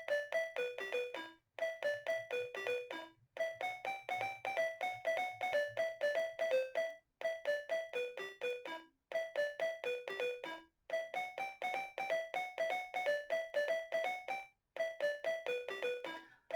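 An Oric home computer, owned since new, plays a Nokia RTTL-format ringtone tune in bright, beeping square-wave notes, quick repeated phrases separated by short gaps, clean and alone.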